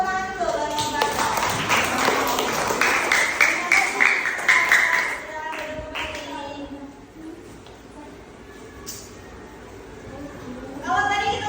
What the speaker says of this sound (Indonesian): Kasih tepuk tangan dulu kalau mau baca.